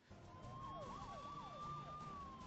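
An ambulance siren on a city road in Kolkata wails with a rising and falling tone, faint and distant but steady over low traffic rumble.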